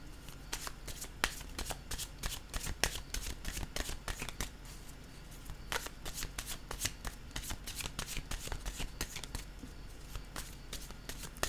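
Tarot cards being shuffled by hand, a quick run of crisp riffling slaps and flutters repeating in an irregular rhythm, close and fairly quiet, without speech.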